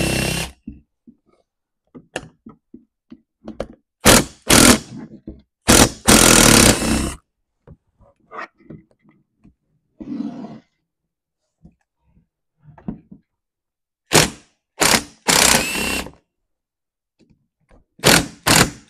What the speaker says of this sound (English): Let's take the four cylinder bolts out.